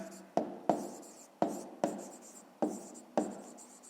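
Pen or pencil strokes of someone writing out a solution to a fifth-grade maths exercise, a series of about seven short distinct scratches and taps at a steady pace, close and fairly quiet.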